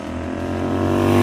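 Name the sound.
Royal Enfield GT650 twin engine exhaust with torpedo mufflers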